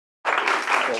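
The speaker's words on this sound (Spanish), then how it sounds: "démosle un fuerte aplauso" Audience applause breaks out suddenly after a moment of silence, a dense steady burst of many hands clapping that continues to the end.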